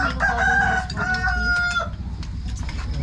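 A rooster crows nearby at a family celebration in the Philippines, one drawn-out cock-a-doodle-doo over about two seconds, followed by low murmuring and background noise.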